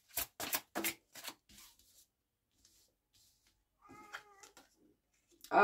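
A house cat lets out a single drawn-out meow, close and moderately loud, following a few soft rubbing or shuffling sounds, with a brief noise at the very end.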